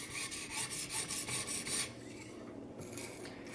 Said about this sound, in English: this is a 800 grit diamond, fairly new blade plate, so that's why using the 800.